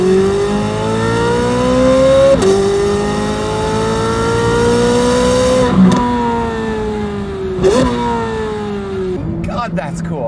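A Chevrolet Corvette C8 Z06 engine revs loudly through the gears, its rising exhaust and induction tone climbing, then dropping at each shift across several pulls, with a voice talking underneath.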